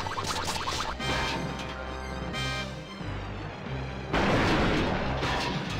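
Loud booming blasts and crashes in Donkey Kong 64, several heavy cannon shots in quick succession with clattering impacts.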